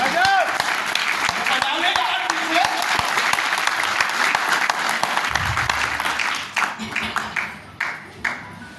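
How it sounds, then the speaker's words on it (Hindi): Audience at a Modicare meeting in Digha giving a round of applause for a director; loud, sustained crowd clapping that thins out toward the end, with a voice talking over it. "एक जोरदार ताली होनी चाहिए"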